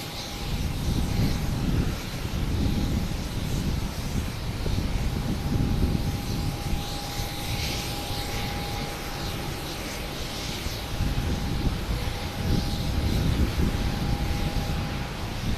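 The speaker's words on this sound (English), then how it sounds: "we have Scandinavian Airlines SAS coming in from Copenhagen, an A330-300" A Scandinavian Airlines Airbus A330-300 jet arrives at Boston Logan from Copenhagen with a continuous, fairly loud broadband roar that swells and eases, heard from a distance outdoors with a faint steady whine over it.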